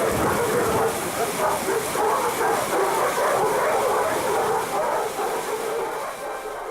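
Several dogs bark and yip continuously over steady heavy rain, the barking fairly close and loud throughout.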